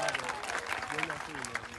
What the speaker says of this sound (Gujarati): એમની માટે પણ એકવાર જોરદાર તાળીઓ થઈ જાય